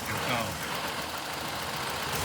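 A 2014 Ford Explorer Police Interceptor AWD engine idling roughly, a steady uneven rumble heard continuously up close with no pauses.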